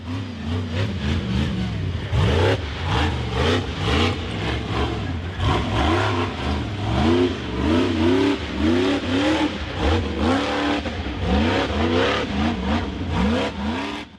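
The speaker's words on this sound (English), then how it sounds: "The blue buggy built up speed and charged up the rocky dirt hill" Blue off-road buggy with a black steel frame and red rims charging up a steep, rocky gravel hill, its mid-pitched engine revving hard and continuously with rising and falling pitch sweeps throughout.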